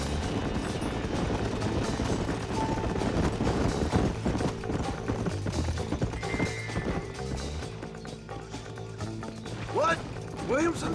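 Horse hooves galloping in the Red Dead Redemption video game, a steady run of clip-clop beats under music and other game sounds, with a horse whinnying briefly near the end.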